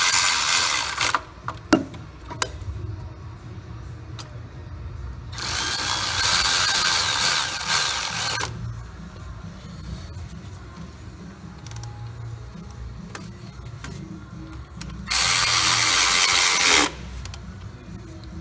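A hand ratchet tightens throttle body bolts on an Infiniti G35 in a home garage, giving two longer bursts of rapid clicking and scattered metallic clinks in between, close by with no talking.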